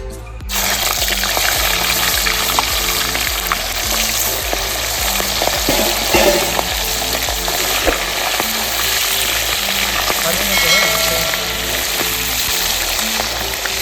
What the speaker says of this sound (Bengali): তেল গরম হয়ে গেছে, মাছগুলোকে এবার ছেড়ে দিচ্ছি।